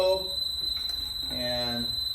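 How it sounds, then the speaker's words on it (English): Interior low-profile horn strobe fire alarm giving a steady, shrill high tone under a person's talking, with the sound fairly faint. "You could do an interior low profile horn strobe,"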